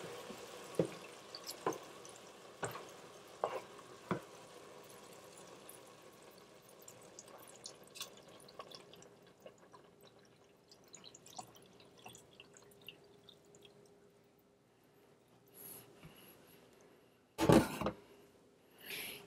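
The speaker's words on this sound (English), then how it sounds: "we're going to add our 4 cups of milk slowly." 2% milk trickles slowly into a pot of low-fat, gluten-free creamy potato soup, heard as faint, intermittent dripping and soft splashes, with a sudden louder clatter near the end and no talking.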